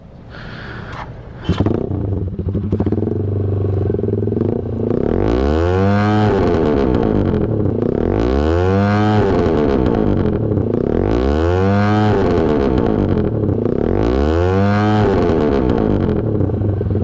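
Kawasaki Z200 motorcycle fitted with an Austin Racing exhaust, revved hard and close in four repeated loud swells that rise and fall over a constant rumbling idle, with no talk.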